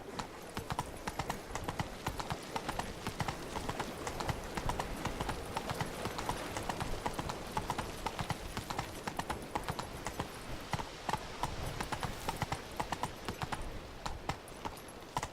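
Roach the horse galloping in The Witcher 3, a fast, steady run of clip-clopping hoofbeats that carries on throughout, with a quiet voice briefly underneath.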